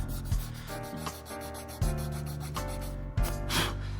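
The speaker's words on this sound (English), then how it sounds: "if we come across the top and sand all of this down, sand all the high spots of varnish off" Sandpaper rubs back and forth over a varnished wooden surface, a close, scratchy rasp in several repeated strokes with short breaks between passes.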